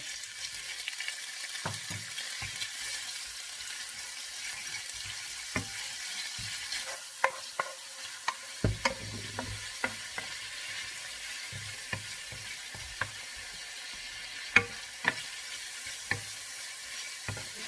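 Chicken meat frying in a pan with garlic for fried rice, a soft continuous sizzle broken by scattered scraping and knocking of a utensil, no talk.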